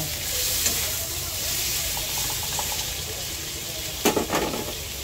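Garlic, onion and string beans sauté in a pan for adobong sitaw, giving an even, close sizzle and hiss throughout, with a brief clatter of a utensil against the pan near the end.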